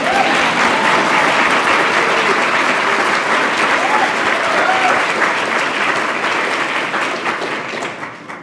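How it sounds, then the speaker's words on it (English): Sustained audience applause fills a lecture hall for a speaker being introduced at a panel on race, dense and steady throughout before fading slightly at the very end. "You can clap for him."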